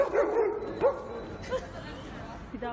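Dogs bark in short yipping bursts, a few close, sharp barks, heard in an outdoor street scene with other noise around them.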